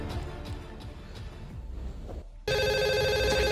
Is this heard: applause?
no